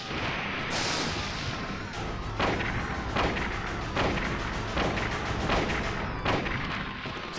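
Slow, evenly spaced gunshots from a game weapon in Silent Hill: heavy thudding reports roughly every second, loud and close over a dense, rumbling background.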